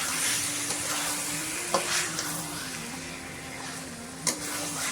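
Dill-leaf chicken stirred in a pan with a handful of coriander leaves, a steady close sizzle with scraping stirs and a couple of sharper clinks, no talk.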